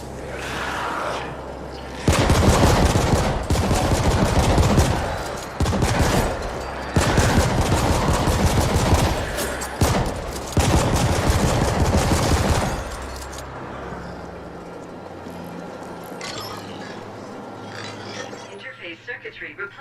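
Pistol gunfire in the sci-fi shooter The Ascent, several loud bursts of rapid shots in clustered volleys, with explosive impacts and game effects, then quieter ambience as firing stops.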